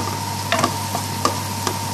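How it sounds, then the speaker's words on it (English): A spoon stirs fish curry with pangas fillet and potatoes in a pan: a few light scrapes and clinks over a soft steady sizzle and a low hum, close by with no speech. "I'm stirring at the same time holding this spoon"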